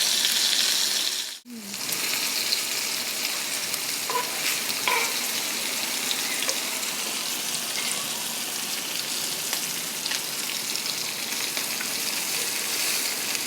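Mackerel fish frying in a crowded pan of hot oil, a close, steady, crackling sizzle that dips for a moment near the start, then bubbles on evenly with small pops.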